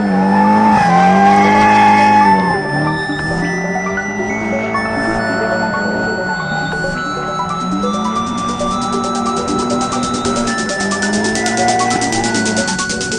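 A drift car slides hard, its loud engine revving and falling while the tires squeal almost continuously for several seconds, close and with no talk.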